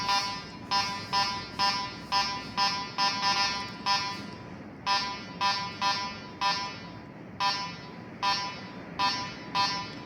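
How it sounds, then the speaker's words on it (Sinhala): A GT 358 metal detector gives a string of loud, evenly spaced electronic beeps, with brief gaps in the rhythm before the pattern resumes. "මේක මෙටල් ඩිරෙක්ටර් මැෂින් එකක්."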